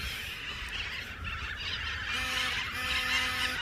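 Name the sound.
cockatoos screeching loudly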